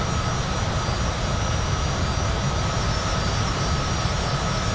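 Steady, loud jet engine roar from inside a Cessna Citation CJ4 business jet taking off and climbing, a constant broadband rush with a faint whine on top, no talking.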